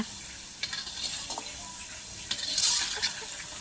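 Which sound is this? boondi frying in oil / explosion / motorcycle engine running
boondi frying in oil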